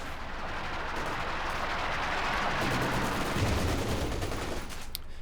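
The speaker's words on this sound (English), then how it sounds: "MG versus MG. We've got the MG34 versus the Maxim." MG34 and Maxim machine guns fire against each other in a 20th-century war strategy game, forming a loud, unbroken rattle of automatic fire with a heavy, booming battle texture throughout.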